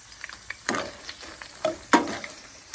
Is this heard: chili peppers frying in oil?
yes